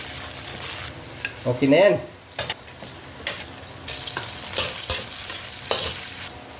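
Mixed vegetables sauté in a hot pan for a Filipino ginisang gulay, giving a steady close sizzle with stirring scrapes and clinks, and a brief spoken phrase early on.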